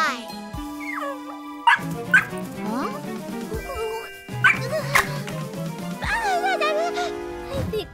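A cartoon puppy in a kids' doll show yips and barks in short bursts and whimpers between them, mixed with chimes and music.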